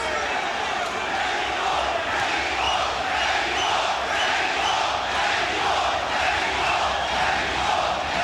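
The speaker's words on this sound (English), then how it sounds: "Every element of crowd noise you hear, the chants, the cheers, the spontaneous eruptions" Dense crowd roar at a big boxing fight, continuous chanting and cheering from a packed arena, steady and loud throughout with no breaks.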